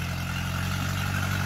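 A Mahindra Yuvo 585 tractor, a 50 horsepower 4x2, pulls a 9x9 harrow through a field, its engine giving a steady, loud, even drone at low RPM throughout, with no talking.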